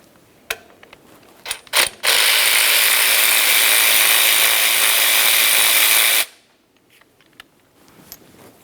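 A hand ratchet spins off the two 10mm bolts securing a brake flex hose to the steering knuckle of a 2003-2007 Honda Accord, a few short clicks followed by a long, loud continuous ratcheting buzz that stops abruptly.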